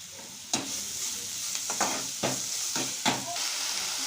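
Something frying in a pan for a North Karnataka curry, a steady hissing sizzle cut by about five distinct stirring scrapes spaced roughly half a second apart, close and even, with no one talking.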